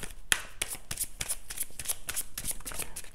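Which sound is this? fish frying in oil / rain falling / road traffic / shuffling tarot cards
shuffling tarot cards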